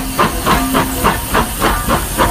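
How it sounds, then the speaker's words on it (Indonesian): A steam locomotive in a video game hisses loudly and continuously, with rhythmic chuffing pulses about twice a second beneath the steam. "Di sini ada juga lokomotif kereta api."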